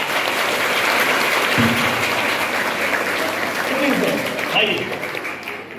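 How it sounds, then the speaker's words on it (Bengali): A school audience applauds a student at a quiz contest, a loud, dense wash of clapping that holds steady and fades slightly near the end, with voices mixed in. "জোরে হাততালি হবে ওর জন্য একবার"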